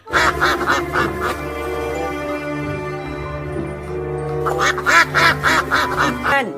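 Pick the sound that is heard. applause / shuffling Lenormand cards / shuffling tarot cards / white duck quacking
white duck quacking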